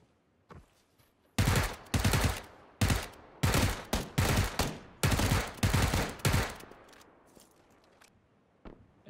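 Repeated gunfire in loud, rapid bursts, roughly a dozen close, sharp shots and short volleys fired in quick succession, followed by a few fainter scattered shots.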